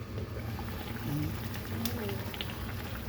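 Fish paksiw, a vinegar fish stew, bubbles and simmers steadily in a pot, a soft continuous boiling hiss with faint background noise.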